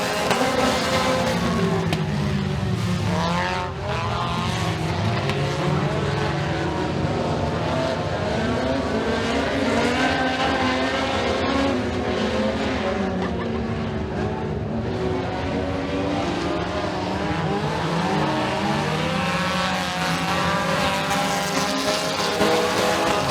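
A heat race at Eriez Speedway gets underway with a pack of race cars roaring around the dirt oval, a dense, continuous wall of engine howl with rising and falling revs, loud and sustained throughout.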